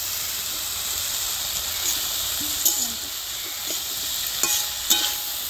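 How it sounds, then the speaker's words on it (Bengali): Taro stolons (kochur loti) being stir-fried in a pan give a steady, moderately close sizzle and hiss, with a few soft scraping stirs and small clicks of a spatula. "কচুর লতি দিয়ে আমি এরকম ভাবে কষিয়ে নিচ্ছি"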